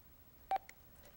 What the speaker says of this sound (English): oh, look, we have a phone call.